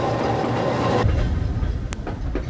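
A Kurobe Gorge Railway mountain train in Toyama, Japan, rumbles steadily along the tracks near Kuronagi Station with rhythmic clatter and a brief high squeal from the wheels, loud and close.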